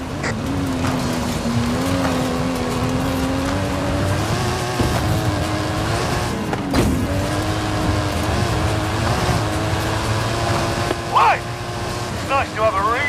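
Stunt car in Forza Horizon 5, a custom-engined Mike Steel Special, drives hard uphill with a loud, steady engine drone whose pitch slowly climbs and dips throughout, while someone talks over it.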